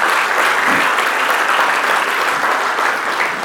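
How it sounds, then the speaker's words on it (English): Keynote audience at the Black Hat Asia 2019 security conference applauding, a steady dense wash of many hands clapping at fairly close range, sustained without a break and with no talk over it. "let's give them a round of applause"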